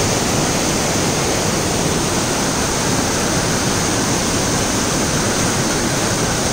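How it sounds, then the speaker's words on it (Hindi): A waterfall at Plitvice Lakes pours beneath a bridge in a loud, steady, broadband roar that holds unchanged throughout, with no voices. "मेरे ठीक पुल के नीचे ये झरना पूरे रौद्र रूप में गिर रहा है"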